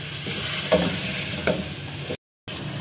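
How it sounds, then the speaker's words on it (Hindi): Cauliflower frying with spices in a pan for a dhaba-style gobhi chicken dish, a steady close sizzle broken by a couple of stirring scrapes, with no speech. "और अच्छे से इसको भुनेंगे ताकि गोभी में मसाले सारे मिक्स हो जाएं।"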